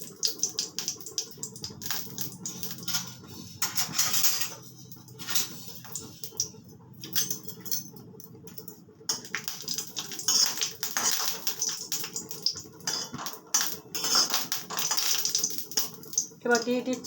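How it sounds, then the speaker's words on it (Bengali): Two dried red chillies crackle and sizzle in hot oil in a wok as the tempering for a garlic tomato pickle, a steady close patter with a person talking over it. "প্রথমে কড়াতে তেল দিয়ে দুটো শুকনো লঙ্কা দিয়ে দিলাম ফোড়নে।"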